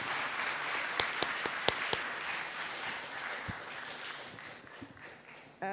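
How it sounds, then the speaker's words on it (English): Scattered applause follows a university guest lecture, a few sharp, distinct claps standing out over a soft, thinning patter that dies away before a voice begins. "Let's give a big applause to Professor Araya."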